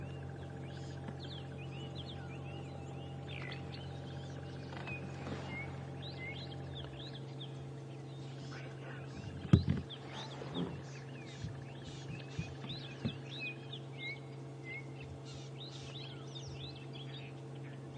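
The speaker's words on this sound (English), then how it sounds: "now we can hear that dawn chorus that says as it gets a bit warmer, all the birds start making a noise" A dawn chorus of birds chirps and calls at a game reserve during an early morning safari drive, with scattered faint calls over a steady low engine-like hum and a brief thump midway.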